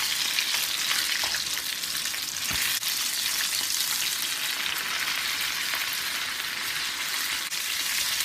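Okra frying in hot oil for Southern fried okra, giving a steady, loud, dense sizzle and crackle that runs unbroken throughout, with no voices.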